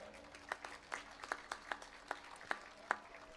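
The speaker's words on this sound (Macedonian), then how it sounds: "Ке ве молам за аплауз за сите ова." Audience applause at the Roma Truba Fest 2017 in Kumanovo, heard as faint, scattered claps with sharp, regularly spaced peaks, like a thin crowd clapping in rhythm from a distance.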